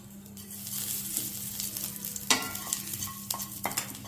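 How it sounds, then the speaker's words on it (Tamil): Mustard seeds fry in a hot pan with dried chilies, giving soft, quiet sizzling with scattered sharp pops and crackles building up over a few seconds. "கடுகு நல்லா பொரியணும்."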